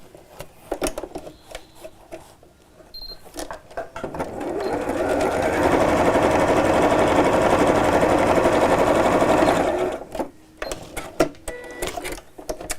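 A sewing machine runs a straight line of stitches across the seam of a quilted tote, a close, steady mechanical chatter of about six seconds framed by quieter clicks and fabric handling before and after.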